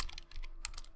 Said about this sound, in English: I'm really having trouble typing right now.